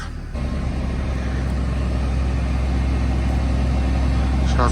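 A Mercedes tractor engine runs steadily up close, a continuous low idling drone that holds level throughout with no talk over it.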